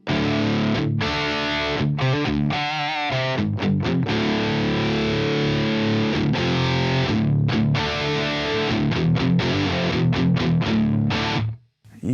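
An ENGL E653 Artist Edition 50 W tube guitar amp in its high-gain mode with the bright switch on, a loud, thick distorted guitar playing chugging riffs and sustained chords with brief stops.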